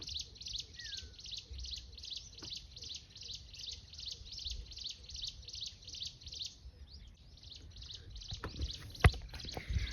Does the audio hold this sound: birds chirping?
yes